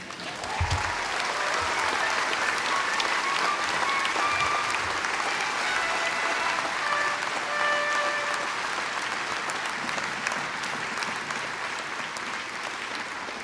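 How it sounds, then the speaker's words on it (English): A large crowd at a university graduation ceremony applauds the new bachelor's degree graduates, a long, sustained wash of clapping that stays full and even from start to finish. "I think you deserve another round of applause."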